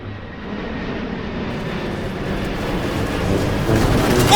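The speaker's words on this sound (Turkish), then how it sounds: "Şu an bir yerden uçak geliyor. Duyuyorsunuz sesini?" A loud, steady airplane engine roar in the video game Teardown, building in intensity, a continuous rumbling drone that swells toward the end.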